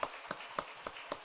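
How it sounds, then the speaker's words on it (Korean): A church congregation claps together during a Wednesday prayer service, giving several brief, evenly spaced bursts of applause at moderate volume with no talk over them. "우리 한번 박수 한번 치겠습니다"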